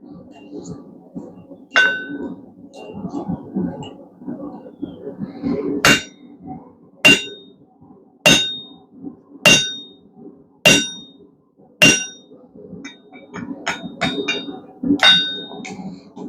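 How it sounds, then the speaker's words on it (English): A hammer drives a chisel through hot steel in a steady series of sharp, bright metallic clangs, roughly one every second, with faint murmuring voices in the background. "I'm going to actually start trying to drive more and more of the chisel through"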